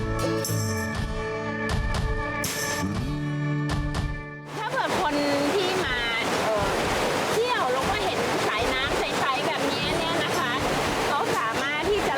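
Stream water flowing down from a waterfall at a hillside temple in Chanthaburi, Thailand: a steady, broad rushing wash that fills the second half, following a stretch of music.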